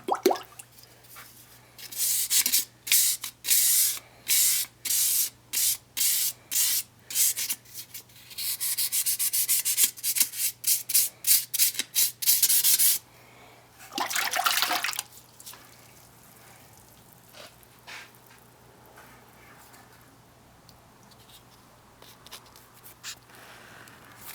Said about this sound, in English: We're going to scrub off some of these oxides, and we're going to get a good peek at that Damascus.